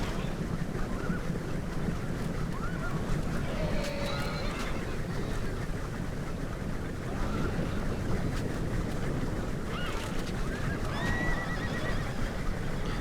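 Horses neighing amid a Rome Total War cavalry battle with Gaul riders and chariots, a few shrill whinnies rising over a dense, constant roar of hooves and combat noise.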